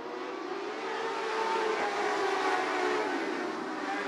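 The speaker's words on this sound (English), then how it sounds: "Fire down into the corner." Modified Lite dirt race cars roaring into a corner at Bubba Raceway Park during winter racing, a dense, steady wall of engine noise at fairly close range with no breaks.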